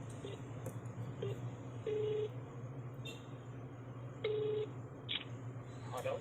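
A phone being dialed: a few sharp single keypad beeps, then two longer steady dialing tones, clear and close over a low constant hum.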